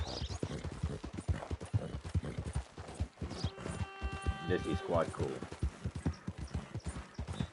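Rhythmic clip-clop of horse hooves at a steady trot in Red Dead Redemption 2, continuous under a person talking, with a brief whinny partway through.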